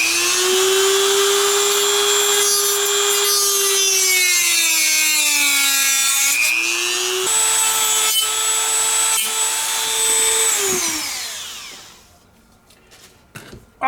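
A Dremel rotary tool works on a balsa wing of an old-school Model Works Bristol SE5 kit, a loud, steady high-pitched motor whine that dips and rises in pitch as it cuts and then spins down to near silence.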